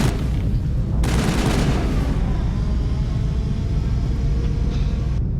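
Gunfire in Mass Effect Andromeda during a firefight: a sustained roar of shots and rumbling blasts, with a louder burst near the start, then a steady wash of combat noise throughout.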